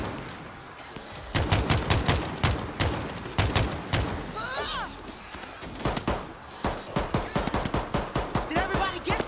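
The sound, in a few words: automated turret firing, World War Z video game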